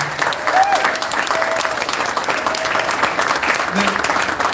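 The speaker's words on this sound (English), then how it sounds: "Can we give a round of applause for the Commodore?" Crowd applauding the Commodore aboard the Queen Mary during a ceremony, sustained clapping from many people heard fairly loud and close, mixed with some background voices throughout.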